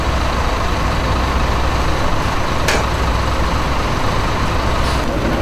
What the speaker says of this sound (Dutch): Het is een oude stadsbus die altijd heel goed dienst heeft gedaan en nu afgeschreven was.